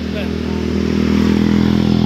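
A Yamaha NMAX scooter's engine drones steadily with a low, even hum, swelling slightly louder as it passes close by.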